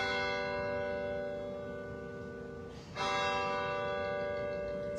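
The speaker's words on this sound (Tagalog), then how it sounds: "pinatunog din ng Manila Cathedral ang kampana sa loob ng 13 minuto" A church bell at Manila Cathedral tolls in memory of Pope Francis, its sustained ringing hum filling the space; a fresh strike lands near the three-second mark with no talk over it.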